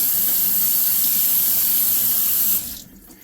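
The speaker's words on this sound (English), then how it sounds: "I'm going to rinse my hands off right quick." Tap water runs steadily into a kitchen sink as hands are rinsed under it, a loud broadband gush that cuts off near the end and leaves a quieter tail.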